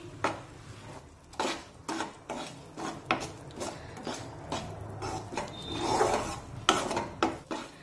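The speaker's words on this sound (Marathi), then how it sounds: "हे गव्हाचं पीठ छानपैकी तुपामध्ये परतून घेऊया" Wheat flour roasting in ghee over a very low flame is stirred with a spoon against the pan, giving repeated close scraping and rasping strokes in an uneven rhythm, with no voices.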